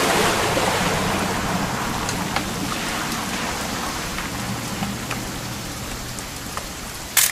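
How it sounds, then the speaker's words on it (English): Steady, dense rainfall in the video game What Remains of Edith Finch, a constant close hiss with occasional sharper drops and no voices. "It's gonna rain the whole weekend, isn't it?"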